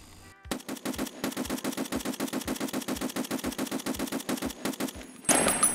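Rapid, evenly spaced shots from an M1A rifle in semi-automatic mode within a video game chamber a 7.62x51 round, firing a long steady string of loud, sharp cracks, followed by a brief reload clatter at the end.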